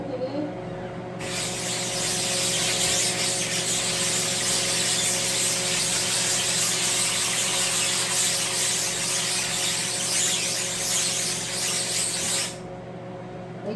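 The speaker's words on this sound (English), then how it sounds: "just kind of get it all over, and scrub it in" A screen-printing screen is scrubbed hard during reclaiming, giving a loud, continuous rough hiss for about ten seconds over a steady low electrical hum that carries on before and after.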